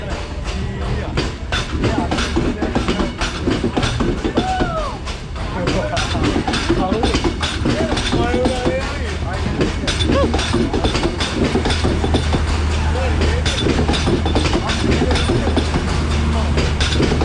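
A passenger train runs along rails in Sri Lanka, heard from on board: a loud, steady rumble with a constant rapid clickety-clack of wheels over track joints, with people talking faintly underneath.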